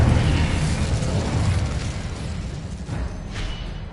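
Incendio fire spell cast in Hogwarts Legacy, a loud, sustained roaring whoosh of flame with heavy low rumble, steady for several seconds and tapering slightly toward the end.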